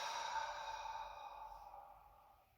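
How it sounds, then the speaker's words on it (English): A long, slow breath out through the mouth during a gentle yoga session, soft and close, fading steadily over a few seconds, with no talking. "bring a nice long inhale through the nose and exhale through the mouth"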